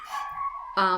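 A dog gives a sustained whining howl followed by a sharp bark indoors, fairly close and clear, in a home setting.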